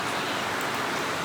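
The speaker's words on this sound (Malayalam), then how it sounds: "കുറച്ചിട്ടാൽ പുറത്ത് നല്ല മഴയാണ് കേട്ടോ." Heavy rain falling outside during the monsoon, a steady, dense, even hiss of drops that fills the whole stretch with no pauses.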